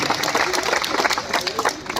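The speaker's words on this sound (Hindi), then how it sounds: "एक बार उनके लिए तालियां बजा दीजिए आप जी।" Brief burst of clapping from an audience at a comedy poetry event at a college, dense and close, with some crowd noise mixed in.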